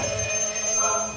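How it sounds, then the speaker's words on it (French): A telephone rings with a steady electronic tone in a soundproofed cellar. It lasts briefly and is faint under a background hum. "C'est le téléphone."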